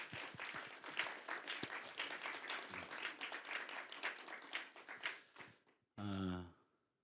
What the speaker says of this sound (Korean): 수고하고 고생했다고 감사하고 또 영광의 박수 돌립니다